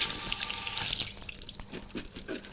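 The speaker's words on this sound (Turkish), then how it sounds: "Akan suda şöyle bir geçiriyorum." Vegetables rinsed under running tap water in a kitchen sink, a close steady gush of water that breaks into splashes and drips as the produce passes through the stream, with no talk.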